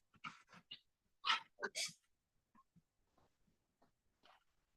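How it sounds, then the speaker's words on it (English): Excited dogs whimpering and yipping upstairs in a house, a cluster of short, high whines early on followed by fainter, sparse whimpers at a distance. "the dogs are upstairs, excited about something."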